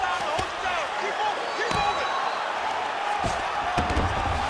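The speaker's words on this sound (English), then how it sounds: "big pop from the crowd as they get back to their feet." A steady arena crowd roar in the EA UFC 5 fight game between Bo Nickal and Paul Craig, loud and continuous with sharp hits and thuds punching through.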